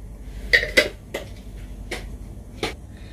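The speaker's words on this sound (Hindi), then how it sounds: "इसको अच्छे से मिक्स करेंगे जी" Spoon clinks against a cooking pot while mutton is stirred together with cardamom, star anise and spice mix, five separate metallic knocks spread irregularly over a few seconds with no talking.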